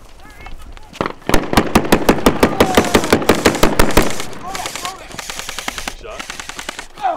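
Airsoft guns firing during a MilSim West military simulation game: rapid bursts of close, sharp snapping shots, dense in the middle and sparser later, with shouting voices mixed in.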